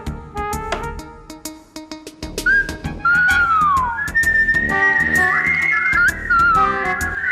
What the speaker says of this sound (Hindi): सीटी बजाना बंद कर